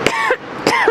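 Two harsh, close coughs about half a second apart, each a short rough burst with a throaty tail, loud and alone.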